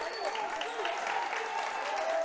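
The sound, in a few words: home crowd cheering at basketball game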